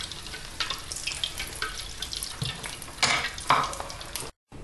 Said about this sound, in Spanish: Y vamos a freír el resto.